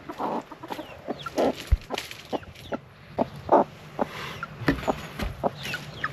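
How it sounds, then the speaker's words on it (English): A broody hen clucks repeatedly in short, low, irregular bursts, close up, with soft scratching and rustling in between and no talking. "Broody hen"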